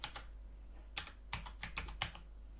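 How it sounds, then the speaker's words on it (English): Keys tapped on a computer keyboard while entering math into a form, a quick irregular run of crisp, close clicks with short pauses between them, no voice. "Just use the keyboard."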